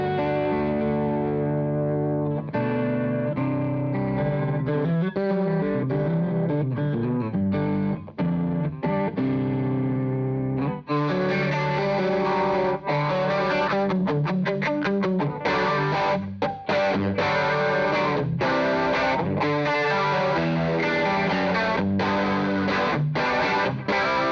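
Electric guitar run through a Chroma Console effects pedal with distortion rings out for over twenty seconds, sustained gritty chords and then choppier, rhythmic strums, loud and wet with modulated shimmer.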